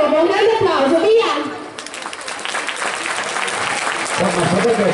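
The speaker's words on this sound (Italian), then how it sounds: "un grande applauso, via!" A crowd claps loudly, a dense patter of hands that swells at the start, dips briefly, then continues steadily to the end.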